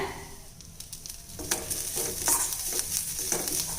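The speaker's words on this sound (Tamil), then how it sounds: "ஒரு ரெண்டு நிமிஷம் அடுப்பை குறைச்சி வச்சு இந்த மாதிரி தேங்காய் எல்லாமே வறுத்து எடுத்துட்டேங்க" Grated coconut roasting in a pan with cardamom powder over low heat, with a soft sizzle and repeated scraping strokes of a spoon that come in irregular bursts, close and moderately quiet.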